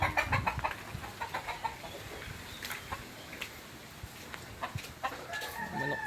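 A rooster crows outdoors at a home in Cabanatuan City, the calls repeating in short bursts at moderate distance, with other birds and yard noise around it.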